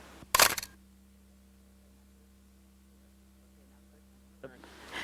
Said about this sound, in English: now click the shutter.